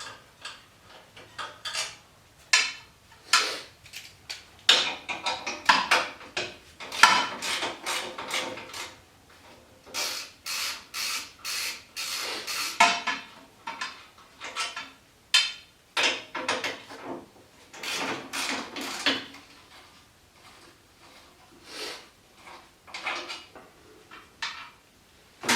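Metal bolts being threaded and set back into a body panel part of a John Deere 420 or 318 lawn tractor, a long run of close, sharp clinks, taps and ratcheting clicks in irregular bursts with short pauses, no talk.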